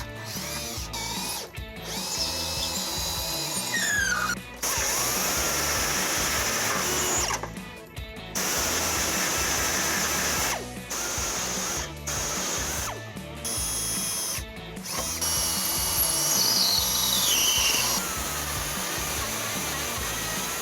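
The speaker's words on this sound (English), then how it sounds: "I'm going to start off with a 3/16 drill bit and then step my way up to make our hole as big as we" A power drill with a 3/16 drill bit bores a hole during a trailer hitch install on a 2015 Toyota Camry, loud whirring runs broken by brief stops, alone without talk.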